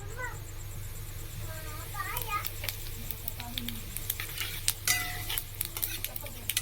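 Whole cumin seeds fry in hot oil as a tempering, with a close, steady sizzle, occasional stirring scrapes and faint voices in the background.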